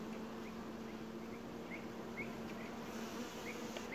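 Honeybees buzz steadily around hive frames in a colony that has lost its queen, a dense continuous drone with a few brief higher insect whines passing close by.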